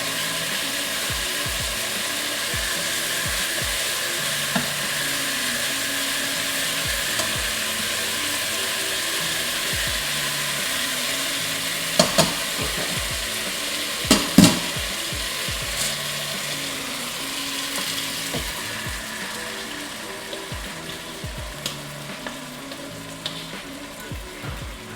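Marinated curry chicken with onions frying and being stirred in a pot, giving a steady close sizzle throughout with occasional sharper clinks and scrapes of a utensil against the pot.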